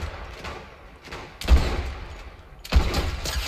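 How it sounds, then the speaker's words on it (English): Gunfire in a Fortnite Battle Royale match, two heavy close bursts of shots with crackling tails and lighter distant shots between them. "They're shooting at me."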